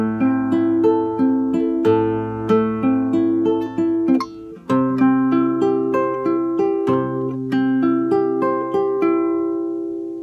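An acoustic guitar plays a phrase of a song alone, with clear plucked notes and chords ringing in a steady rhythm, close and fairly loud.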